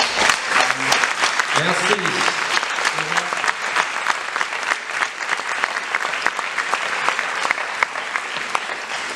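A cinema audience at the opening night of L'Etrange Festival 2017 applauds members of the festival team, with loud continuous clapping throughout and a brief voice speaking over it near the start.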